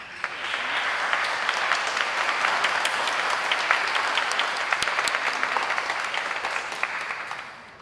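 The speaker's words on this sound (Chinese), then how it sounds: "请站起来，让我们拍手来欢迎他们。" A congregation at a Taiwanese-language church worship service applauds to welcome visiting university students, with loud, sustained clapping and a few sharp individual claps standing out for nearly eight seconds before fading.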